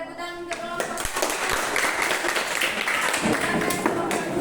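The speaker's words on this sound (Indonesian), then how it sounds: "Oke, tepuk tangan untuk kelompok 1." A class claps for a student group in a classroom. The dense, close clapping runs throughout, with a few sharper taps and voices mixed in.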